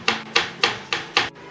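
Chocolate shavings are lightly patted onto the sides of a cake, five soft, evenly spaced brushing pats, close and fairly quiet.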